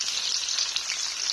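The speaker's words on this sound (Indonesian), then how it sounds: "Tadi aku beli tempe, aku goreng dulu." Tempe fries in a pan with a bright, steady sizzle and crackle of hot oil, close and alone.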